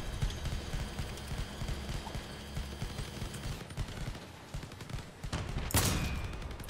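Enemy vehicle weapons in the vehicle combat game Crossout, a steady rapid stream of rattling gunfire under low engine rumble, capped near the end by a single louder sharp impact burst.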